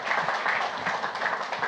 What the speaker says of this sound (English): How about a round of applause for our friend Eric?